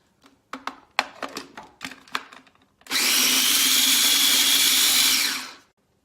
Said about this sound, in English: I'll blend it up